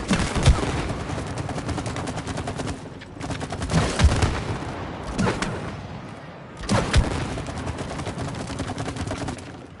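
Gunfire from shooting in the video game It Takes Two, rapid bursts of shots in three long volleys separated by brief pauses, loud and dense with heavy thumping impacts.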